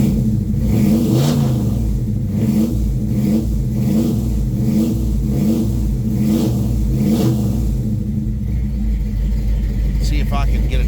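A 1970 Chevelle engine running after a cold start, a loud, close, rumbling idle with rhythmic surges and a steady throb, continuing throughout with a voice speaking over it.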